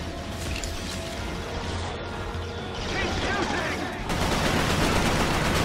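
Continuous gunfire from the player's weapon in the shooter Resistance, a dense, steady rattle of shots with a noisy battle wash that swells louder toward the end.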